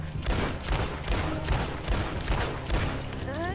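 Rapid gunfire rings out in Red Dead Online as a player shoots at barrels, a volley of repeated shots in quick irregular bursts over several seconds, moderately loud with some echo.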